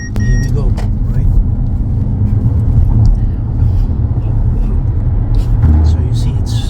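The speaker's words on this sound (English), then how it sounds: "So just a slight press of the pedal, and it picks up speed." A 2023 Mercedes-Benz EQA 250 electric car accelerates in sport mode, giving a steady, loud road and cabin rumble throughout while a voice speaks over it.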